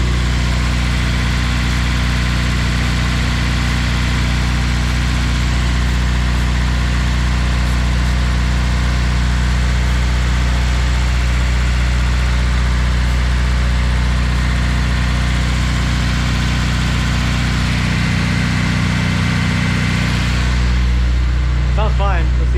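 Car engine idling steadily after an RBC intake manifold install, running a bit rich while warming up; a loud, constant low rumble holds close and unbroken for about twenty seconds, then drops off near the end.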